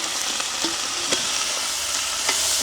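Small tomatoes stirred and frying in a hot pan, a steady broadband sizzle with several sharp scraping stirs of a spoon, close and alone with no talk.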